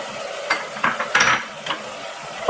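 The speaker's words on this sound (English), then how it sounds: "Stir it nicely." Mushrooms stirred in a pan with carrot and bacon for a sausage risotto: several scraping utensil strokes over a faint sizzle, a few sharper clicks spaced across the stretch.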